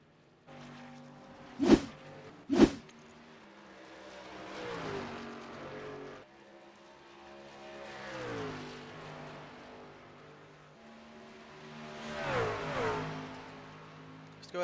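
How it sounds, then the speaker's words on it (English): Race cars in a racing video game rumble around Watkins Glen with two sharp, loud bursts near the start. Engine drones then rise and fade as cars pass, with a final swell near the end. "Hear them cars rumble."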